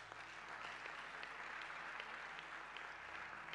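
A church congregation claps steadily to acclaim Jesus, a dense, continuous applause with a faint voice underneath, sustained at an even level across the whole stretch.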